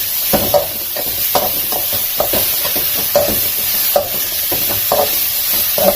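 Tamarind and vegetable peel are fried together in a pan, a low sizzle broken by repeated sharp scrapes and clacks of a stirring spoon in a loose, uneven rhythm, close and fairly loud.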